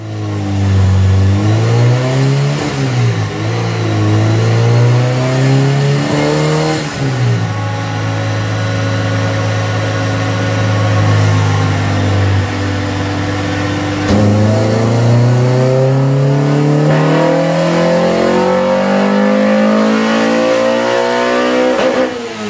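A Honda H22a engine on a dyno revs through repeated climbing and falling pulls, loud and close, with a strong, clear engine tone rising and dropping alone.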